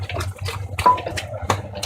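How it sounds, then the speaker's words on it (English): Water trickles and splashes into a bowl of icing sugar mixture in a few short uneven pours, close by and fairly quiet, with no talking. "So I'm just adding some water in because that was a bit thick."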